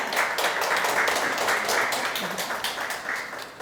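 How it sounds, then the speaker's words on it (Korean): An audience applauds at an awards ceremony for social workers, a dense, continuous clatter of many hands clapping that tapers slightly toward the end. "수상자에게 축하의 큰 박수 부탁드립니다"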